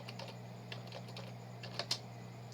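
Soft, irregular clicks of keys on a computer keyboard while working in MS Word, faint and close, with a couple of slightly firmer keystrokes near the end over a steady background hum.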